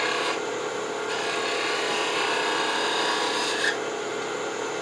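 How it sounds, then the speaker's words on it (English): Spindle gouge, 3/8 inch, rolling a bead on a cherry wood spindle turning on a lathe, giving a steady, close, continuous scraping rasp that holds evenly throughout with no talk. "I switched to a little smaller 3/8 inch spindle gouge and just kind of roll over that bead."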